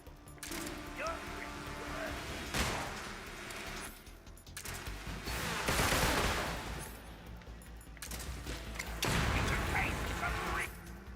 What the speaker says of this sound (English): now he's just shooting the crap out of me